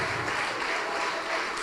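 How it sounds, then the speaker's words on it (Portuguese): Church congregation applauding during a worship service, a dense, steady wash of many hands clapping at once with no gaps, filling the short stretch at an even level. "Dê o melhor para Deus, a melhor salva de palmas."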